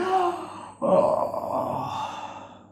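A reader imitates a long, breathy yawn aloud while telling the children's story A Sick Day for Amos McGee, a drawn-out exhale that swells after a brief catch and slowly fades, heard alone and close.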